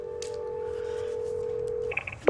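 A telephone number is dialed in a psychological horror thriller film scene: a steady dial tone holds for nearly two seconds, then a quick run of short keypad beeps follows, close and clear with no voices.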